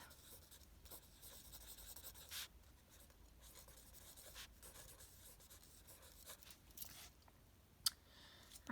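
A pencil or pen scratches steadily across paper by hand, faint and close, in short continuous strokes with brief pauses and occasional small taps, and no talking.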